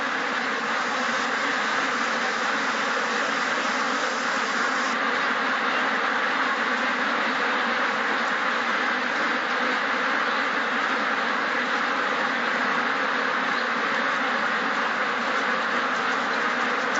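A dense, continuous din of many ducks quacking inside an intensive duck farm shed, loud and unbroken, with the overlapping calls blending into a steady wash of sound.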